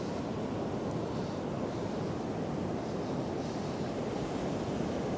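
Sea waves wash at the foot of the crumbling Happisburgh cliffs, a steady broad roar of surf mixed with wind rush, continuous and fairly distant.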